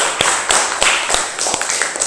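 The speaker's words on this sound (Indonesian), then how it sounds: "Oke, tepuk tangan maksimal untuk Raka." Schoolchildren in a classroom give a round of applause for a classmate, a series of sharp, closely spaced claps with a somewhat rhythmic beat over about two seconds.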